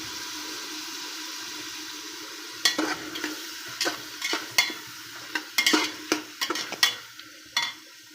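Tomatoes sautéed with salt in a pan give a steady soft sizzle, with repeated sharp scrapes and taps of a spoon stirring against the metal through the latter part, no talking.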